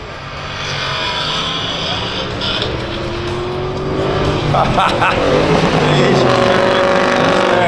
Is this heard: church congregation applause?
no